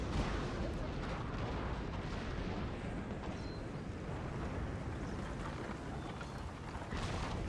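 Artillery batteries fire in the video game Napoleon Total War, a dense, continuous rumble of distant cannon blasts that sits beneath faint battlefield noise, loud and unbroken throughout.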